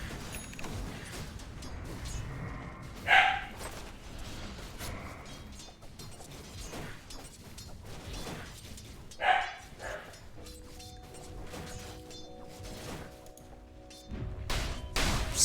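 A dog barks in two short loud bursts several seconds apart, standing out over a noisy indoor background of clatter and faint hum, with no talking during the barks.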